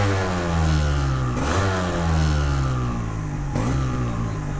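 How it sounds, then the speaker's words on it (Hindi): A restored Yamaha RXZ five-speed motorcycle exhaust note, revved twice in close succession with quick rising swells over a steady, throaty idle, loud and close. "सो इसका एग्जॉस्ट नोट काफ़ी प्यारा है गाइस"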